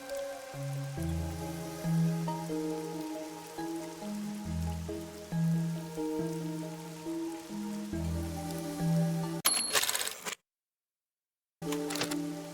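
Steady rainfall patters softly in the Master Detective Archives: Rain Code video game, a constant hiss beneath a slow, prominent musical melody, briefly cutting out near the end.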